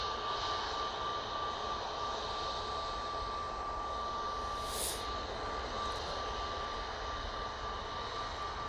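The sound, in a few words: Pegasus airliner from Istanbul arriving, jet engines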